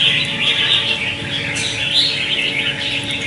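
A wild-caught red-whiskered bulbul kept as a cage bird gives bright, repeated chirps and short calls, close and fairly loud over a steady background hum.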